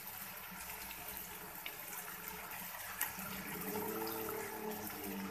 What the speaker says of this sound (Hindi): अब इसके अंदर डालेंगे पानी, हाफ कप पानी डाल देंगे।